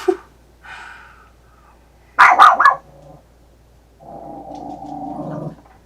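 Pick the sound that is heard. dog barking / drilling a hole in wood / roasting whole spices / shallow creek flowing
dog barking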